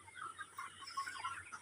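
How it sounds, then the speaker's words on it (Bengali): A Sonali chicken clucks faintly nearby, a series of short, quiet clucks repeating irregularly over a low background hum. "সোনালী মুরগি আমার দিকে"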